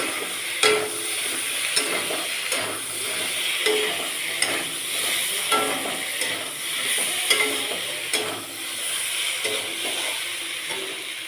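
A spatula scrapes and stirs fried pointed gourd and potatoes with spices in a hot pan, producing a steady sizzle broken by regular clanks and scrapes against the metal, close and with no talking.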